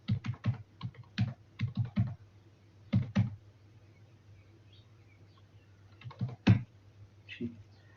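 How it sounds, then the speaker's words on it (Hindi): Numbers are typed into an Excel spreadsheet on a computer keyboard in quick, close clusters of clicking keystrokes separated by short pauses, with a faint chirp in the background. "मैं यहाँ नंबर टाइप कर रहा हूँ कुछ"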